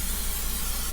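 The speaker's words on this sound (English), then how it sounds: "We're gonna spray our 2 loaf pans" Cooking spray hisses from a can in one loud, continuous burst into two loaf pans, close up and cutting off abruptly at the end.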